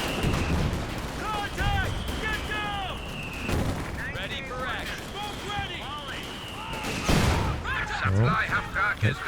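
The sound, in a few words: artillery shell fire in the video game Company of Heroes 2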